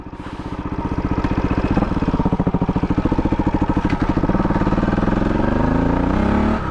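Motorcycle engine with a carburettor just adjusted, firing up quickly and settling into a loud, close, evenly pulsing idle with a few small blips of throttle.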